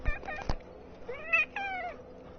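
A cat meows in quick succession, several short, close, clear meows in a row with some soft rustling at the start.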